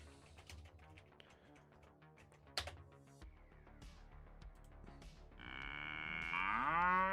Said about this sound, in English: All of the mooing cow.